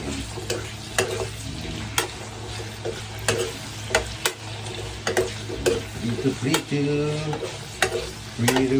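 Food with mango crackles and spits steadily in hot oil, with sharp pops scattered throughout and brief murmurs of voice underneath.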